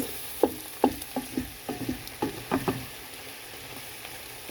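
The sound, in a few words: stirring flour into sizzling pot pie filling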